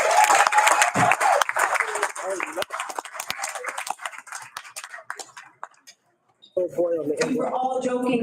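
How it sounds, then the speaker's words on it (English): An audience applauds a school choir at a board of education meeting, a loud burst of clapping that tapers into scattered claps before a person starts talking. "let's give our Somerville Times Choir another round of applause"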